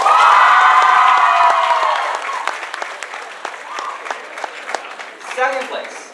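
Loud, sustained applause with cheering and whoops from an audience at a student science awards ceremony, strongest at first and then thinning into scattered claps with a few shouts near the end.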